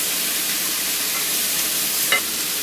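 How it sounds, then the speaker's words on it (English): Leeks, fennel and onions sauté in a pan with a continuous bright sizzle. A short scrape of stirring near the end rises briefly above it, and no one speaks. "Stir up the fennel and the onions."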